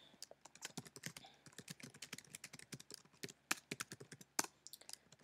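Fingers type rapidly on a computer keyboard, a dense run of crisp, close key clicks with a few louder strikes and no speech.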